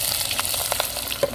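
Mustard seeds and cumin sizzle and crackle in hot oil for a Tamil bitter gourd tamarind curry, with scattered small pops and a steady frying hiss, close up, with no talking.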